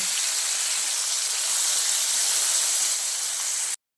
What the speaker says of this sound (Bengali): এরপর আমি পুঁটি মাছগুলোকে ভেজে নেব।